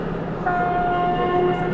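A model train horn on a layout at a Poznań hobby fair sounds as a steady tonal blast from about half a second to the end, over a busy hall murmur of crowd noise.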